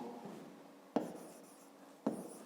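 Pen or pencil writing out a fifth-grade math exercise on paper: soft continuous scratching with two sharper taps, quiet and close, with no talking.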